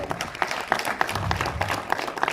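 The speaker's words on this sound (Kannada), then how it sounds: "ಜೋರಾದ ಚಪ್ಪಾಳೆ." A crowd at a Kannada film event bursts into loud, dense applause, with sharp individual claps standing out above the steady roar.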